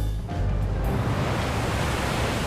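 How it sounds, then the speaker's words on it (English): Rough North Atlantic seas of about six meters pound against the ocean liner Queen Mary 2, a loud, steady roar of surf and wind filling everything, with no voices. "The ship is crashing through 6-meter waves."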